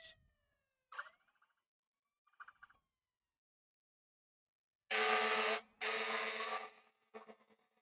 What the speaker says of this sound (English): You can hear the fire truck in the background